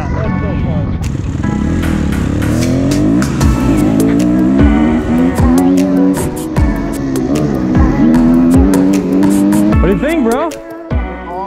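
A dirt bike ridden on a track revs steadily and loudly throughout, its engine pitch rising and falling with throttle, with other vehicle engine noise nearby.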